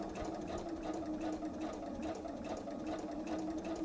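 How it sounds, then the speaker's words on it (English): A sewing machine stitches through cotton with a steady, fast, even whir and rhythmic needle chatter, running continuously and fairly close. "all I'm doing is sewing through cotton"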